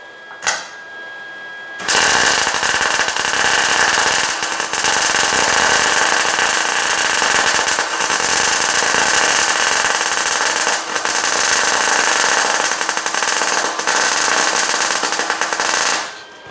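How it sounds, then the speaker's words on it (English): A welder joins 1978 Ford gas tank cross members onto a 2011 Ford Super Duty truck frame on a hoist. After a quiet start, loud, close, crackling arc bursts run almost continuously, broken by a couple of short pauses. "we'll weld this other side in solid here"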